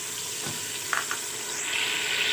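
Garlic and ginger fry in a pan for fish curry, giving a close, steady sizzle with a couple of brief stirring clinks, the hiss growing brighter toward the end.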